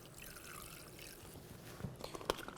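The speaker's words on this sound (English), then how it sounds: "I'll actually put water in the bag to rinse them" Cold water pours into a plastic bag to rinse salmon bellies, a faint, steady trickle with a few small splashes and crinkles toward the end.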